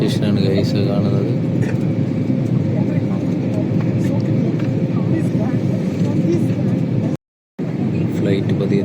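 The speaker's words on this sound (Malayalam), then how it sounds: "ഫ്ലൈറ്റ് പതിയെ താഴേക്ക് ഇറങ്ങുകയാണ് ഗൈസ്." Inside an airliner cabin as the flight slowly descends toward Delhi, a loud, steady engine drone and airflow rumble fill the space without a break, apart from one brief dropout near the end.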